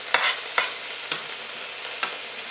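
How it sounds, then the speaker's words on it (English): Steak sizzling in a tilted pan as melted butter is spooned over it, a steady close frying hiss broken by four soft splashes from the basting spoon. "we're going to kind of tilt this on the side, and we're going to baste it"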